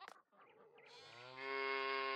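A cow in the farming game Farming Simulator 19 lets out a long, drawn-out moo that swells in loudness and holds steady, heard close and clear after a few soft scuffing sounds.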